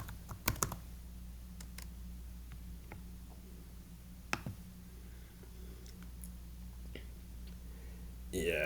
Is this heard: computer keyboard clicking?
yes